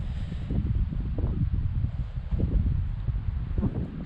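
A fairly steady northwest wind rocks the trees in a swamp beside a trefoil hay field, giving a continuous low, gusting rumble that buffets the microphone close up.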